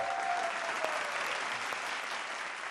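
Steady crowd applause at a Hindi stand-up comedy show, dense and even from start to finish with no voices breaking through.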